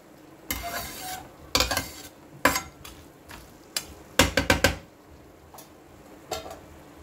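Rice is stir-fried with spices in a pan, heard as bursts of scraping and tossing with metallic clinks and ticks between quieter spells, close and alone.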